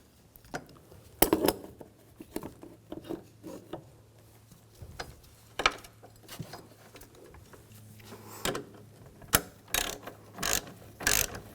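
A hand ratchet tightens the coolant reservoir bracket bolts on a 2011-2018 Volkswagen Jetta 2.0L four-cylinder. Short, irregular bursts of clicking alternate with pauses and small metallic knocks, close up, with no voices.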